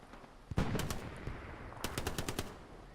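MP40 submachine gun fire in Hell Let Loose: a short burst of rapid shots, then a pause and a second, longer rattling burst, sharp and fairly close.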